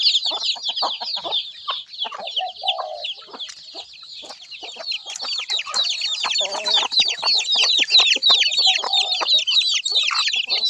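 A flock of chickens being fed clucks and squawks without pause, a busy, close chorus of overlapping calls that grows slightly louder toward the end.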